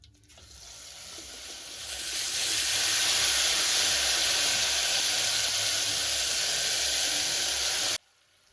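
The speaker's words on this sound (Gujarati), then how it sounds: "તો હવે આપણે વઘાર કરી દઈશું." Hot oil sizzles loudly as a vaghar tempering hits the pan for a kantola (spiny gourd) curry with chilli, salt and garlic paste, swelling over the first seconds into a steady hiss before cutting off abruptly.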